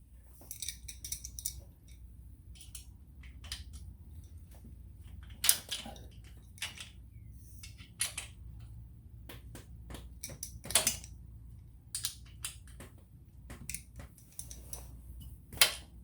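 A wrench snaps and clicks as the valve adjusters on a 1971 Moto Guzzi Ambassador are loosened. The sharp metallic ticks come in irregular bursts close by over a quiet low hum, with no talking.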